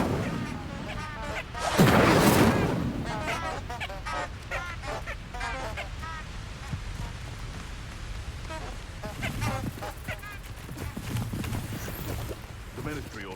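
An Incendio fire spell is cast in the video game Hogwarts Legacy, a brief loud fiery whoosh near the start amid other game effects, with voices speaking through much of the clip.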